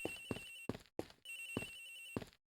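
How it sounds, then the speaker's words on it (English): Repeating electronic cell phone ring in the video game Ace Attorney Investigations, a bright steady tone with regular bursts, fairly loud and alone, cutting off briefly mid-ring and ending in silence. "It sounds like the phone is up in the flight attendant's room."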